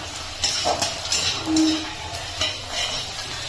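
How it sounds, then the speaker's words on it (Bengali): Onion, garlic, cloves and green chillies fry lightly in oil for a rohu fish dish, with a soft hiss under scattered stirring scrapes and a few faint clinks of the spoon. "পেঁয়াজ রসুনটা হালকা একটু ভেজে নিয়ে এর মধ্যে আমি পাঁচ ছটা কালি দিয়ে দিচ্ছি কালিটাকেও ভেজে নেবো"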